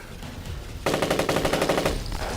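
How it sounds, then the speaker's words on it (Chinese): Rapid automatic gunfire from Japanese soldiers in a wartime drama bursts in after a quiet opening, a fast rhythmic string of shots lasting about a second, then fading into low rumble. "你听鬼子的枪声"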